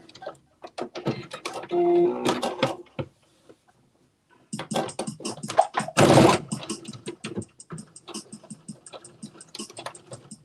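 Sewing machine back stitching on a Simplicity S9463 garment, short bursts of rapid needle clatter with a pause in the middle, then more stop-start stitching and a louder burst near the end.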